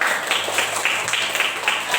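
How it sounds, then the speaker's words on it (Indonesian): An elementary classroom of children claps for all the student groups, a fairly close, rhythmic burst of hand claps in a steady beat. "Tepuk tangan dulu untuk semua kelompok."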